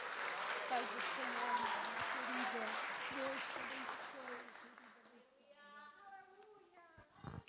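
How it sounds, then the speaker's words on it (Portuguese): A church congregation at a women's service claps for several seconds while voices speak over it, then the applause fades out and speech carries on alone. "As palmas é para Jesus."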